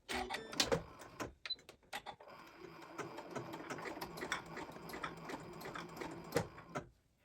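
A domestic sewing machine stitches a zigzag seam while making an odd fault noise, giving rapid clattering mechanical ticks in uneven bursts with brief pauses, close and fairly quiet.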